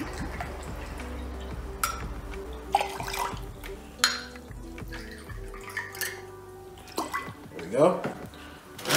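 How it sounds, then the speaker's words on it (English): Cranberry juice, about 90 ml, is poured into a highball glass over vodka for a Frog in a Blender cocktail. The close liquid splashing and dripping comes with a few glassy knocks while a person talks. "And top up with 90 ml of cranberry juice."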